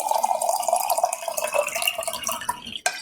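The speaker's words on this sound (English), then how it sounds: "we're going to fill up the rest of the jar with filtered water" Filtered water runs into a mason jar in a continuous gurgling stream that slowly rises in pitch as the jar fills, ending in a brief clink near the close.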